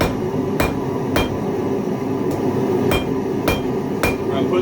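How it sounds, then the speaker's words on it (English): Hammer strikes on steel held at the edge of an anvil in a forge, angled half face blows landing in a steady series of six sharp ringing hits about half a second apart, clear and close. "Where I'm putting the steel at the edge of the anvil and hitting down at an angle."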